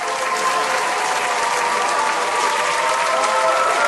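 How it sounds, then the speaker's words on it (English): A crowd applauds the winner of an outfit contest with loud, continuous clapping that stays full and even throughout, close and uninterrupted, with a faint murmur of crowd noise underneath. "Round of applause, everyone."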